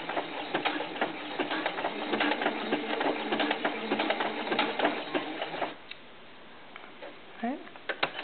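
A sewing machine runs steadily up close, sewing ribbing onto the neckline of a knit doll tank top, then stops as a voice talks over the quieter remainder.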